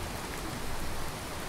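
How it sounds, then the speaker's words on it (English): Steady, dense rain pours in an audio drama scene, a continuous even hiss of drops on surfaces with no pauses and no voices. "I need to get out of this rain."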